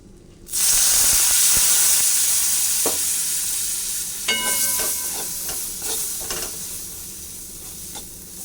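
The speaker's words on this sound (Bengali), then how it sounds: "সব মশলাটাকে একটু ভেজে নেব" Spices for a potato and pointed gourd curry hit a hot pan with a sudden loud hiss that settles into a steady sizzle, broken by several sharp stirring scrapes and taps, no voices.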